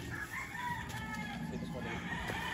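A rooster crows amid a noisy game farm background, with other fowl clucking and faint murmuring voices nearby.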